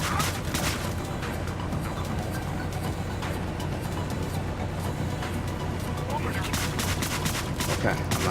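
Gunfire in the video game Deadbolt: a dense, continuous wash of loud shots and crackling impacts with no pauses, blended with heavy low background rumble.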